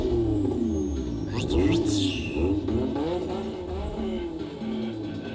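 A tuned car engine in The Fast and the Furious revs hard and loud, with rising and falling pitch sweeps, a brief whine and screech in the middle, and a steady rumble underneath throughout.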